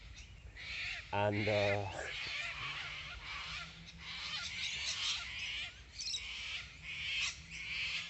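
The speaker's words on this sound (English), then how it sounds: "These cockatoos and noises, shit, man, like massive fucking pterodactyls." Cockatoos screeching outdoors, harsh raucous squawks rising and falling repeatedly at moderate distance, mixed with someone talking over them and wind or ambient noise.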